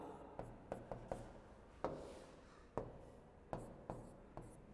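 Chalk or marker tapping and scraping on a board during a physical chemistry lecture, a series of sharp, irregular strokes about half a second apart, close and fairly quiet with no speech.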